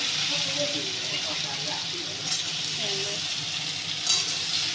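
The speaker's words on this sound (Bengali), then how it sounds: "এই যে ঝিঙেগুলোকে এইভাবে ভেজে নিতে হবে তেল দিয়ে।" Ridge gourd pieces fry in oil with a steady, close sizzle and faint bubbling, plus a few soft stirring clicks, while a voice speaks quietly in the background.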